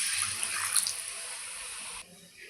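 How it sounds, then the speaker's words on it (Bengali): Water pouring in a steady stream into a curry pan of fried spices while cooking, a close, even splashing rush that stops abruptly near the end. "এখন অল্প করে একটু দিয়ে দেব জল"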